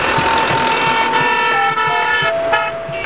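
Vehicle horns honk on a busy highway, loud overlapping toots of several pitches over steady traffic noise, close by and sustained throughout.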